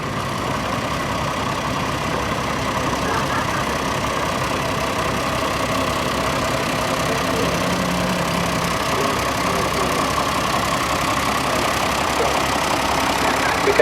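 Steady, even idle of a Nuffield tractor engine in the display ring at the Great Dorset Steam Fair, a continuous low rumble with a faint outdoor crowd murmur behind it.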